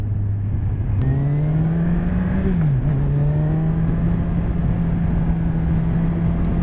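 Kawasaki Z1000R motorcycle engine pulling away, a loud, steady drone that rises in pitch through the gears with a brief dip at a shift, riding with constant wind rush and no speech.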